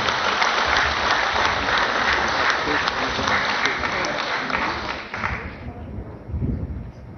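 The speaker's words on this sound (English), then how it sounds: "Let's give a round of applause." Audience at a real estate practitioners' oath-taking ceremony in Cebu bursts into strong, continuous applause from many hands, thinning and fading toward the end as a voice and some low sounds come in.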